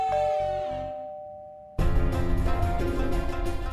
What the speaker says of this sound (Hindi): इतनी रात को किसने घंटी बजाई?